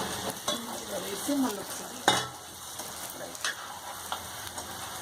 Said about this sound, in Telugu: అన్నీ కలిపి 5 to 10 మినిట్స్ వరకు ఆయిల్లో ఫ్రై చేసుకోవాలి.